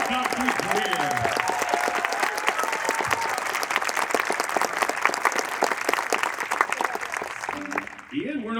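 Enthusiastic audience applause at a university concert band concert, a dense, steady clapping that fills the room for several seconds before a brief voice emerges near the end.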